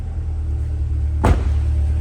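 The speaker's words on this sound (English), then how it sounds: "give it a couple quick revs." A 2020 Corvette C8 2LT Z51 idles with a deep steady rumble, then gives one sharp, quick rev that swells briefly and drops back to idle, heard up close.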